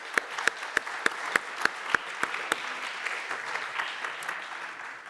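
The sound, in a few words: audience applause at lecture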